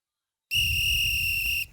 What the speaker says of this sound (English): that sound that you guys heard, that whistle, that means it's extra time